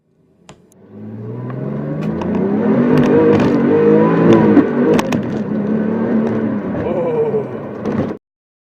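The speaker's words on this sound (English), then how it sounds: "slide through the gears effortlessly in a turbocharged German sports car, like so" Turbocharged German sports car accelerating through its gears, a loud close engine note rising in pitch, dipping at the shifts and climbing again before cutting off abruptly.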